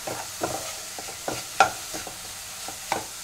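Mushrooms sautéed in a pan over medium gas with oregano and chili flakes get stirred, giving a soft sizzle under repeated scraping strokes of a spoon, with one sharper clink near the middle.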